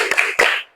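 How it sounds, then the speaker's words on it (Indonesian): Schoolchildren in a classroom clap with their thumbs, two quick soft patters close together, then a fading tail. "Tepuk jempol."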